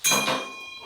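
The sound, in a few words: ping of stainless steel Turkish lather bowl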